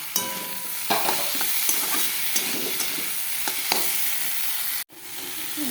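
Onion and garlic paste fry in a pan for a small-fish curry, giving a loud, steady sizzle broken by scraping stirs and a brief cut near the end.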